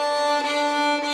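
A bowed string instrument squeaks with the bow placed too close to the bridge, giving a thin, steady, whistling tone that holds loud and unbroken for about a second with no talking.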